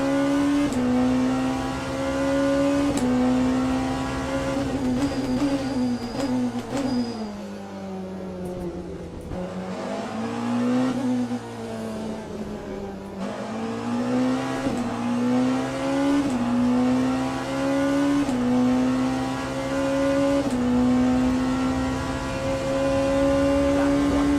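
Race car engine in the Le Mans Ultimate sim racing game, loud and continuous, pitch climbing through the gears with a dip and re-rise mid-lap as the throttle comes back on, no voices over it.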